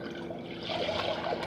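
Thirty-two ounces of water pour from a glass into a pot in a brief, soft, continuous splashing trickle that swells slightly toward the end.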